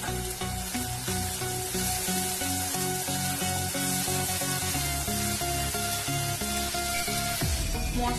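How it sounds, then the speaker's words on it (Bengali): Spice masala for fish balls fries in a pan with a steady, close sizzle and crackle throughout, set against continuous tonal background music. "মশলাটা কষানো হয়ে গেছে, এটা থেকে কাঁচা গন্ধটা চলে গেছে।"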